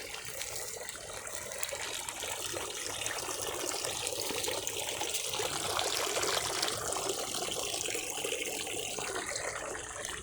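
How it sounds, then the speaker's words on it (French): Running water flowing steadily, a continuous soft splashing trickle like a tap or small stream, faint and unbroken throughout with no voices. "je vais vous montrer quelque chose, un peu d'eau qui coule"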